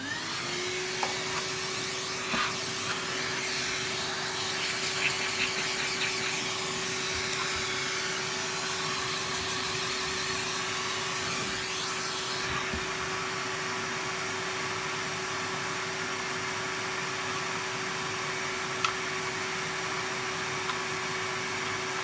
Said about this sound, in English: Apart from just give it a bit of a vacuum out